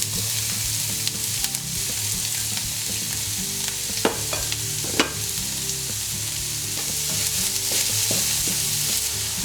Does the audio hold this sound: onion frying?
yes